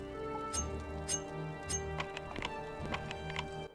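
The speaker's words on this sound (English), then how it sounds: "I just heard footsteps." Footsteps in the game Morrowind come as a steady series of crisp, close treads that fall in an even walking rhythm over quiet ambience.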